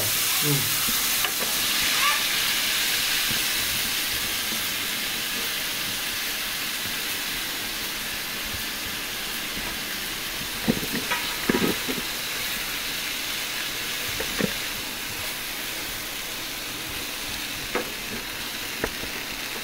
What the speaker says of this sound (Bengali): ভালোভাবে একটু নাড়িয়ে ছেড়ে নিচ্ছে বাজিটা